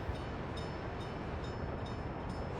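Steady train rumble from the Workers and Resources game, a continuous broadband roll with faint periodic clicks, close and loud with no pauses and no talking.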